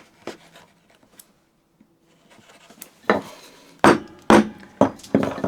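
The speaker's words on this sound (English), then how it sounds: "And chisel the other side." A chisel cuts a tapered sliding dovetail joint in wood clamped to a workbench. Soft scraping comes first, then a run of sharp, close mallet-driven chisel strikes with woody cracks, and no one talks.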